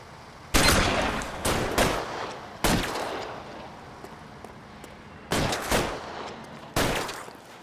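In a shootout from L.A. Noire, a handful of loud, separate gunshots and short bursts crack out at irregular intervals, each trailing a brief echo, with no speech between them.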